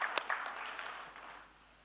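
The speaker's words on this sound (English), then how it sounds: "A big round of applause to these students who were the part of this particular process." Students at a CBSE Sahodaya schools national conference receive audience applause, a brief burst of clapping that fades over about two seconds.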